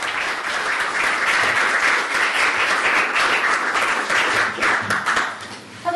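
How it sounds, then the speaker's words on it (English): An audience at a talk on media bias in Glasgow applauds an introduced speaker, with dense, sustained clapping from a crowd that tails off at the end. "please give a warm round of applause"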